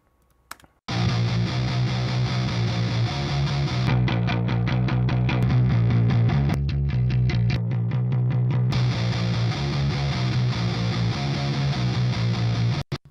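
A distorted, heavy bass guitar run through both a heavy and a clean channel, blended, plays a sustained riff, loud and gritty, with brief sections of choppier picked notes before the full sound returns.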